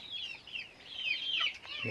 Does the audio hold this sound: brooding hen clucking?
yes